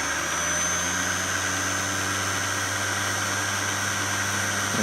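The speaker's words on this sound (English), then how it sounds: "So now I'm going to connect 12 volt power through the ammeter to the armature windings only, and give it a little spin." Small electric shunt-wound motor armature running on 12 volt power alone, a steady whirring hum with constant tonal drone and broadband hiss, close and continuous for the whole span with no talking.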